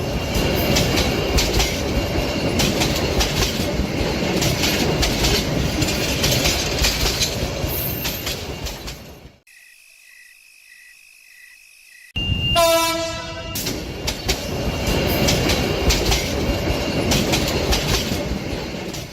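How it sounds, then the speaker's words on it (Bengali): A passenger train pulls into a village station at night with loud rumbling and clattering wheels, drops into a near-silent pause, then sounds a long horn blast before the heavy rolling noise returns and carries on. "কিছু সময় পর ট্রেন নবাবপুর স্টেশনে এসে থামল।"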